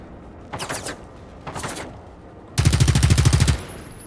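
Gunfire in the video game Generation Zero: two short automatic bursts, then a longer, louder rapid-fire burst of evenly spaced shots, close and dominant with no talk.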